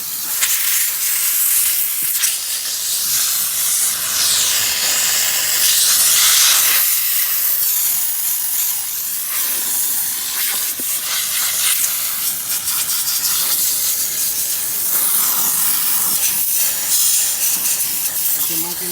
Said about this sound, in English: the steam cleaner is basically killing all the mold.